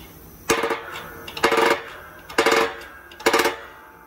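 Four separate knocking strikes, evenly spaced and close, as a bearing is pressed onto a Volvo 850 T-5R angle gear pinion using an exhaust tube capped with a socket, each a sharp metallic hit with a brief ring.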